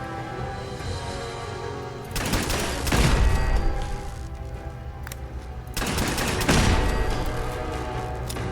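Loud gunfire from Fallout 4 rattles out in two separate sustained bursts of rapid automatic shots, with the game's background ambience in the pauses between them.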